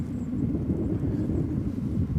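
Military jet on a low-altitude approach at RAF Lakenheath, a dull, steady low rumble with a faint whine that holds without a clear rise or fall, heard from a distance.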